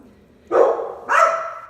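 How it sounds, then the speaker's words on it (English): Two sharp, close barks from a pet dog indoors at a home, the second slightly higher, each ringing out briefly with no talk over them. "That's what she's barking at."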